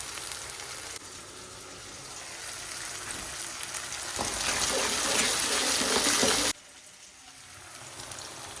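Water pours into a hot cooking pan of tomato gravy for kantola curry, a close gushing, sizzling rush that builds for a few seconds and stops abruptly.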